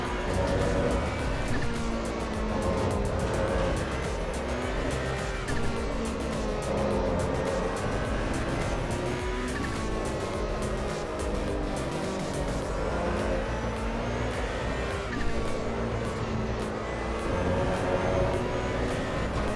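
Simulated racing car engine in Assetto Corsa EVO, revving hard and shifting through gears for a full lap, with steady loud drone, repeated upshift cuts and occasional tire squeal, no talk.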